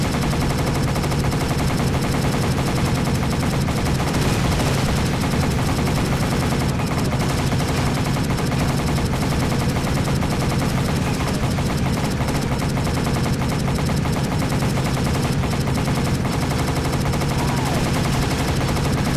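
Sustained machine gun fire in a World War II shooter set on Wake Island, dense continuous bursts of gunfire with a battle din underneath, loud and unbroken throughout.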